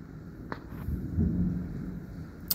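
Thunder from a storm in Coxs Creek, Kentucky, in June 2021: a low, rolling rumble swells through the middle of the clip over steady background noise, with a couple of sharp cracks near the start and end.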